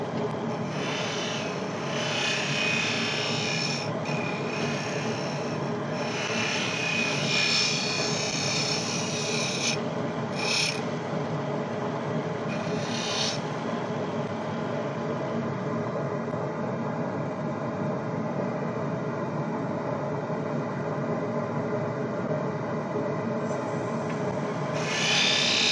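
A wood gouge shear scraping along a turned wooden keyring, a steady continuous rasping that stays close and fairly loud throughout, with brief sharper bursts early on and no talking.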